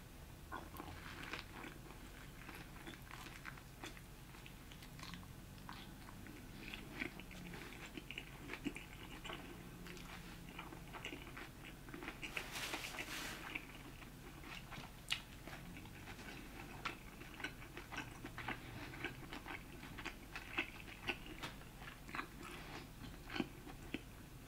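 Someone eating pork belly pad thai and spring rolls, with soft close-up chewing and occasional crunchy bites spread over a quiet stretch with no talking.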